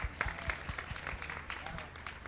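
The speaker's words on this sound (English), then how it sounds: "so let's give him a big round of applause," A gathering inside a Hindu temple in Toronto applauds in a brisk, moderately loud burst of clapping lasting a couple of seconds, with low thumps underneath.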